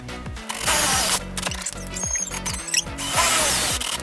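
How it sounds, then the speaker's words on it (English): A power drill with a 7/32 bit whines in several short bursts, spinning up and biting into a wall for pilot holes, loud and close, with brief pauses between each hole. "the next thing we need to do is do pilot holes. And this is a 7/32 drill bit."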